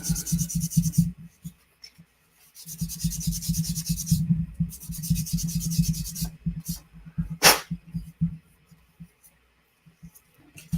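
Rapid, rhythmic rasping strokes of sanding a mold line off a small plastic Gundam tank model part, in bursts separated by short pauses, close up with no talking.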